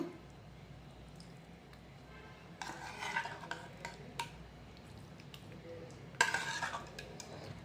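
Prawn tomato curry served out of a pan, with soft scraping and stirring sounds from a spoon, a couple of louder clinks and scrapes against the pan, and quiet gaps between them.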